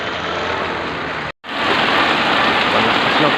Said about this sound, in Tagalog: Kusog ng ulan sa labas.